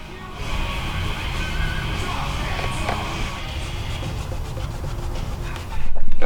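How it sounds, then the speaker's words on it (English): Steady rubbing friction of hand compounding on a car's painted surface to remove scratches, a continuous close scrubbing texture for several seconds, growing slightly louder at the end. "I'm going to put a little extra effort here into compounding this by hand."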